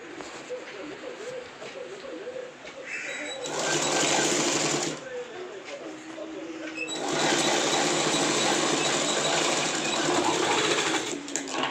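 A sewing machine stitches piping onto trousers, running in two long whirring bursts with a quieter stretch between them, close and steady, while someone talks over it.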